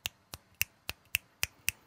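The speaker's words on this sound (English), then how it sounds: "snap your fingers" Seven crisp finger snaps in a quick, fairly even rhythm, close and dry with nothing else heard between them.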